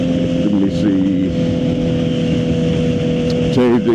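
A Suzuki GSX-R 750 motorcycle with an aftermarket exhaust and quad air filter running while riding, a loud, close, steady engine drone with short revs rising and falling, under constant wind noise.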